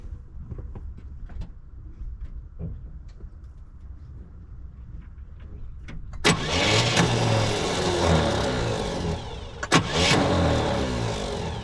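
A 1966 Pontiac Grand Prix barn find, being revived after sitting, cranks for several seconds with faint clicks, then fires and catches, its engine roaring loudly up close with a brief surge of revs before settling into a rough run.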